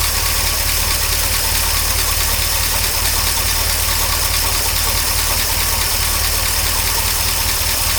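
A 1953 Oldsmobile Rocket Super 88 V8 barn find idles steadily with a loud, rough exhaust rumble and faint knocking, a constant close drone throughout with no talking.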